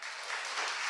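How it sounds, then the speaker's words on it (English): A workshop audience at an entrepreneur bootcamp gives a round of applause, a steady wash of many hands clapping, fairly soft and even throughout the brief moment with no voices over it. "I'd like to give them all a round of applause"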